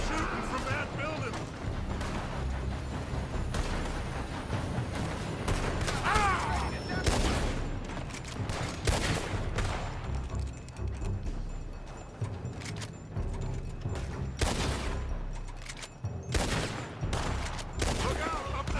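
Sustained battle gunfire in Red Dead Redemption 2, rifles and pistols firing from a building in steady, dense cracks and pops throughout, mixed with shouting voices and action noise.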